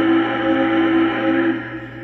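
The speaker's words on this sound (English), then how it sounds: "We set the whistle to the lowest setting, so it's really deep." A Big Boy model train whistle set to its lowest, deepest tone sounds as a steady, loud, sustained blast lasting about two seconds, heard alone.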